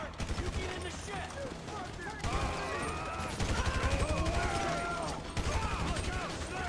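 Sniper and automatic gunfire in GTA 5 during a heist-style shootout, dense bursts of rapid shots crackling continuously under shouting voices, with louder volleys near the end.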